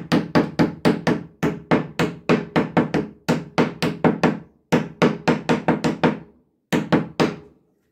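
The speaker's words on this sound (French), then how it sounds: "Donc, je vais prendre mon marteau." Hammer driving staples into wood, a long run of sharp, close, loud blows in quick bursts of three to six strikes separated by brief pauses, with no talk.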